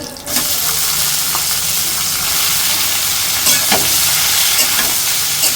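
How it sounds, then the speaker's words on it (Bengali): Lentils and fish fry lightly in hot oil in a pan, giving a loud, steady, continuous sizzle with a few faint clicks of stirring and no talking. "হালকা একটু ভেজে নিচ্ছে"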